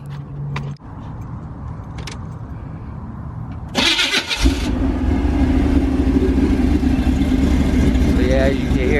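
Cammed LS V8 in an El Camino cranking briefly, catching with a loud rumble, then settling into a close, steady, lopey idle. A voice speaks over the first seconds before the start.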